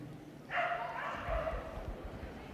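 A Nova Scotia duck tolling retriever barks and yips during an agility run at Crufts, a short burst of moderately loud barking over arena crowd noise and a commentator's voice.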